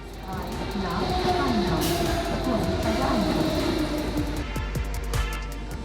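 A Berlin S-Bahn commuter train runs with a steady loud rumble and rail hum throughout, with a few clacks near the end.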